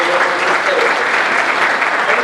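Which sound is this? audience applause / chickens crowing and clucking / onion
audience applause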